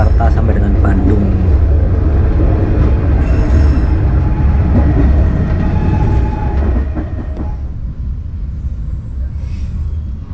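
Walahar local train rolling through Cikampek junction toward Purwakarta and Bandung, a loud continuous rumble of wheels and carriage with faint clatter over the points, easing slightly in volume toward the end.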